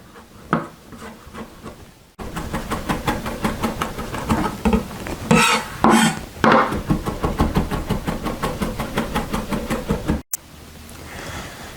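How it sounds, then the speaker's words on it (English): A chef's knife mincing garlic on a cutting board, a rapid steady run of close, crisp chopping taps, briefly pausing and resuming, with no talk. "and then just finally mince this garlic"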